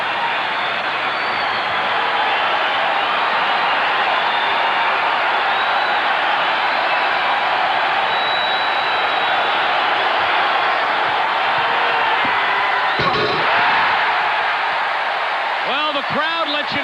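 An arena crowd roars loudly and without pause after Michael Jordan's dunk at the 1988 Slam Dunk Contest, a dense, sustained wall of cheering with a few sharper whoops and bangs near the end.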